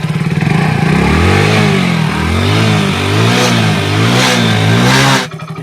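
A Hero HF Deluxe BS6 motorcycle idles loudly and close by after starting, its single-cylinder engine chugging steadily with a slight rev before it stops abruptly.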